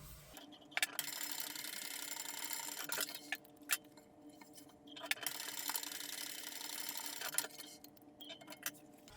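A sewing machine stitches handbag fabric pieces at a quarter-inch seam in two sustained whirring runs of rapid mechanical ticking, separated by a brief pause with a few isolated clicks, close and without talking.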